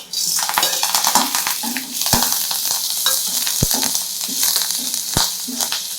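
Spices roast in a hot pan for boiled egg gravy. A loud, continuous frying hiss runs throughout, broken by repeated sharp scrapes and taps of a stirring spoon against the pan.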